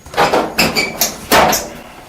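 A steam boiler door being taken off, a few short metallic clanks and scraping knocks in quick succession, close by, with no talking over them.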